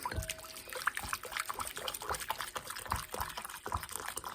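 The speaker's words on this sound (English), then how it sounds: "So I'm going to stir, and I'm going to pour. Steady stream, fairly fast, don't stop." Starch paste mixture pouring in a steady, fairly fast stream into a bowl, a continuous close liquid trickle with small splashy drips throughout, no voices.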